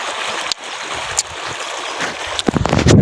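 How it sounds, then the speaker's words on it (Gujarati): Water from an electric well pump motor gushes steadily into a village farm field, a continuous rushing flow with a few splashy surges toward the end and no talk. "તો જોઈ શકો છો એક મોટરનું પાણી ચાલે છે."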